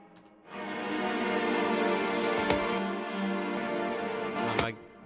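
Layered string samples in a studio production swell together into a full, sustained ensemble pad that holds for several seconds, with a couple of brief bright accents partway through before the sound cuts off.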